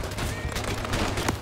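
Rapid overlapping gunfire from Call of Duty: Vanguard, a short dense burst of loud shots with some speech mixed in.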